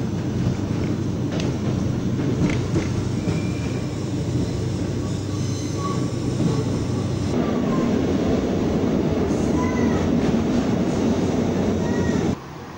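Steady rumbling of a metro train moving through Campo Grande metro station in Lisbon, loud and continuous, with faint squeals and whines, then cutting to a quieter background.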